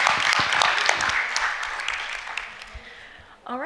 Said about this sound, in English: let's give our panelists one more round of applause and thank them for their time